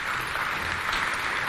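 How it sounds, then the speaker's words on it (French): A brief burst of audience applause at a cultural-centre event, a dense and even wash of clapping from a seated crowd. "On les applaudit encore, s'il vous plaît."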